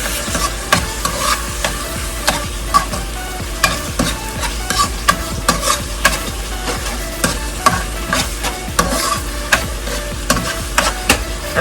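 A spoon stirs a red and white pasta sauce seasoned with salt and cayenne pepper, giving steady scraping and clicking strokes over a soft sizzle, close and fairly loud, with no voices.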